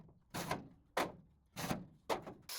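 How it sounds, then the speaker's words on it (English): Metal drawers pulled out of an old, rusty parts cabinet, four or five separate sliding scrapes and clunks, each starting with a sharp hit and trailing off, close and alone. "Then all of the drawers get taken out."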